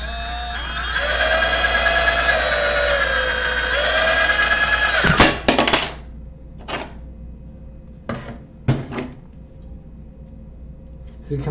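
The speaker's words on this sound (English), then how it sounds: "So we just drill these two holes and we should be good." A power drill boring two holes through a servo bracket runs as a steady loud whine for about five seconds, then stops, followed by a few short knocks and clatters as the part is handled.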